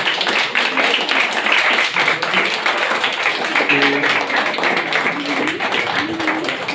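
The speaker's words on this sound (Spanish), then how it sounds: "Un fuerte aplauso a Dios, a Sael y Diana." A church congregation at a Sunday service applauds loudly and steadily, a dense continuous patter of many hands with a few voices mixed into the clapping.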